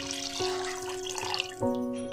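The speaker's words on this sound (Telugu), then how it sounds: "వాటర్ పోసేసుకొని బాయిల్ చేసుకోవాలి" Water pours and splashes steadily into a cooking pot nearby for boiling rice, with a faint ringing tone that shifts as the vessel fills.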